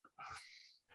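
A dog barks once in the background, a short, faint, distant bark with a growly edge, standing alone with no talk.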